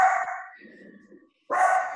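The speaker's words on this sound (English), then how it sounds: "My dogs." Dogs barking somewhere in a home, a few short bursts at fair loudness, with a brief gap before another bark, and no speech over them.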